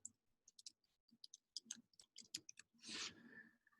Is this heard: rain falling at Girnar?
no